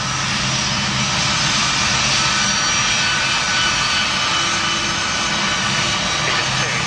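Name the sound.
large aircraft moving on the runway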